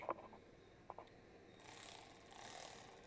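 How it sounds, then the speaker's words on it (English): Milwaukee battery-powered wrench taking a nut off during brake booster work on a 2008 Mustang, a quiet ratcheting clatter with a few clicks, then a higher mechanical whir toward the end. "this is a battery powered wrench"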